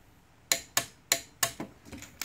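A torque wrench clicks sharply about six times at roughly 35 foot-pounds on engine mount bolts of a 2013-2015 Chevrolet Malibu LT 2.5L, close, crisp metallic snaps in a quick, slightly uneven series.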